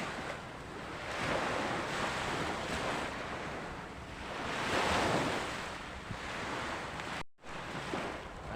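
Ocean waves break and wash on the shore near fishing boats, with wind buffeting the microphone; the surf swells loudly in broad surges, there is a brief dropout near the end, and no voices are heard.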